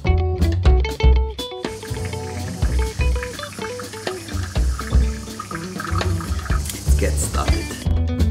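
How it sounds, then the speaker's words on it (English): Water is poured into the tank of a lever espresso machine at a home barista setup, a close splashing fill blended with background music and a person speaking. "Let's pour the water."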